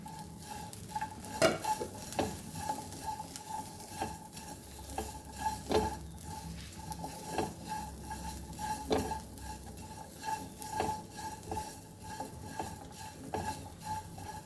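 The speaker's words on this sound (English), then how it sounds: "we'll add onion to this. And we'll fry this on low flame." Onion fries over a low flame in a pan with poppy seeds and cumin, cooked without oil, giving a soft sizzle broken by repeated spoon scrapes and clinks against the pan at an uneven rhythm, with no voices.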